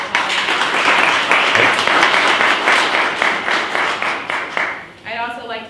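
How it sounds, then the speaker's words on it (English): Audience at a cybersecurity happy hour event in Houston claps in a sustained round of applause, dense and loud, tapering off near the end as a voice comes back in. "so we can give them a round of applause."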